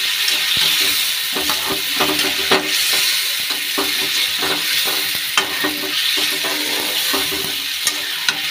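Potato and ridge gourd frying with spices in a pan, a steady close sizzle and hiss broken by repeated clicks and scrapes of a stirring spoon.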